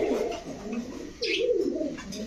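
Old-breed Palla-line pigeons coo in soft, low, throaty rolls, close by, with a brief rustle partway through.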